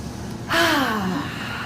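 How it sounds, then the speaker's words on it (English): An audience at a library author reading breathes in deeply together, a single soft collective inhale that swells suddenly after half a second and then trails off evenly. "everyone take a deep breath with me"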